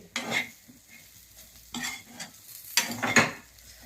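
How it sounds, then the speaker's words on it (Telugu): Chicken fry stirred in a pan, three or four scraping, clinking strokes of a spoon against metal over a quiet sizzle, close up, with no one speaking. "బాగా కలుపుకోండి. బాగా వేగిపోయింది,"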